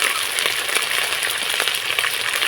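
Ginger, cumin and red chili pastes with salt and turmeric sizzle steadily in a hot pan while being stirred, a close, continuous frying hiss with faint scraping.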